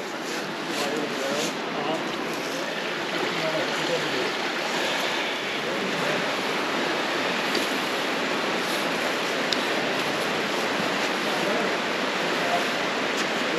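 A waterfall near the Panamint City ghost town in the Mojave Desert gives off a constant, loud broadband rush of falling water that stays steady and unbroken for the full thirteen seconds.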